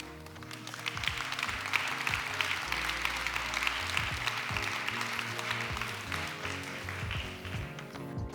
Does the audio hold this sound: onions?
no